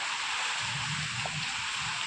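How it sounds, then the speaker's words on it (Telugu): Heavy rain falls in Kurnool, a dense, even wash of hiss that stays constant and moderately loud with no talk over it. "ఈరోజు కర్నూలులో అయితే ఫుల్ వర్షం వస్తుంది."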